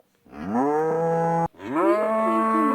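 Two long, loud, close cow moos from the video game Deeeer Simulator, the first rising then holding steady, cut off briefly before the second begins.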